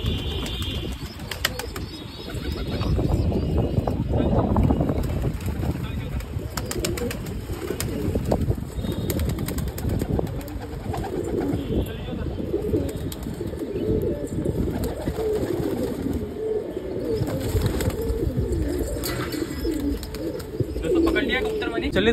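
Pigeons coo softly and continuously in a low, murmuring burble, with occasional wing flaps and faint chirps from other birds nearby.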